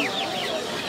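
Polish cap chickens with raised crests like a Silkie, sold at a street pet market in Kolkata, cluck softly and briefly amid steady crowd noise and nearby chatter.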